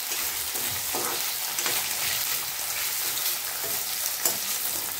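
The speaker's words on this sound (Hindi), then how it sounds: "गैस मैंने फिर से तेज कर दिया है क्योंकि मैंने आलू डाला है तो उसको गर्म करना है।" Diced potatoes fry over high gas in a pan of oil, giving a steady, bright sizzle with soft crackling and occasional stirring scrapes, close and continuous with no talking.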